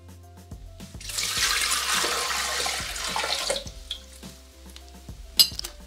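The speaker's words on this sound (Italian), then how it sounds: "Iniziamo la ricetta mettendo all'interno del boccale l'acqua." Water pours into a Thermomix bowl in a steady gushing stream for a few seconds, then stops, followed by light clicks and a sharp knock of the bowl or lid.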